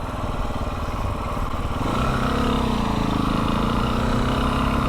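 A supermoto motorcycle engine with the throttle opened at low speed during wheelie practice: a steady, buzzing mid-pitched engine note that rises and holds a little stronger after the first couple of seconds, close and continuous.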